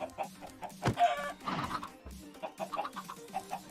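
Clucking chickens in the video game Project Nope Zone, several short, fairly close clucks that recur over a busy game soundscape, with one sharp sound standing out early.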